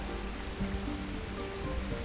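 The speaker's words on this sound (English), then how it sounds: "I get the first glimpse of the waterfall" Steady rushing roar of the waterfall at Devil's Throat near Tilcara, Argentina, a broad continuous wash of falling water heard close and alone.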